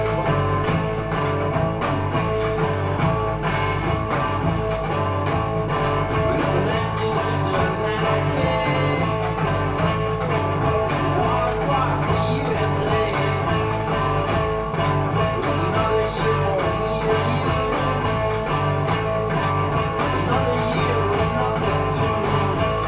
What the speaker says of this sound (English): the musicians you're going to hear are going to play one of the early punk tunes